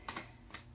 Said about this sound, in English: since I'm shuffling in front of you guys, I'm not faking it. It's just cards.